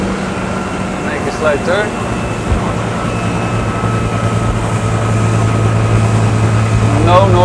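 A Sea Ray Sun Sport 250 motorboat engine drones steadily under someone talking, its tone shifting slightly as the throttle comes down, with water and wind noise behind.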